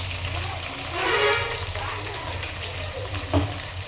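Yogurt and ginger garlic paste frying and being stirred in a pan for tomato ghee rice: a steady, loud, close sizzle with broad hiss throughout, swelling briefly as the mix is stirred, and one soft clunk near the end.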